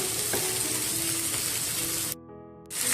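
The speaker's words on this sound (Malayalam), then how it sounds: "ഇഞ്ചി, പച്ചമുളക് ഇത്രയും ഇട്ടിട്ട് നമുക്ക് നന്നായിട്ടൊന്ന് വഴറ്റിയെടുക്കാം." Ginger and green chillies sauté in a pan for a beef varattu, a steady close hiss of sizzling oil that cuts out abruptly near the end before the sizzle returns.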